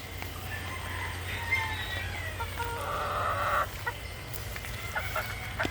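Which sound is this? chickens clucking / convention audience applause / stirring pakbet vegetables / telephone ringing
chickens clucking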